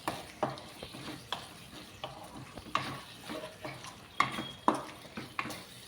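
Curry leaves crackle and sizzle in hot oil in a pan for a ridge gourd chicken skin curry, with a steady frying hiss broken by sharp pops and a few stirring scrapes, close and fairly quiet.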